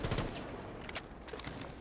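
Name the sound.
gunfire in Rainbow Six Siege video game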